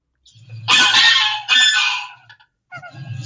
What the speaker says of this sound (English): It looks like really swan is crying, as if someone is coming to destroy swan's nest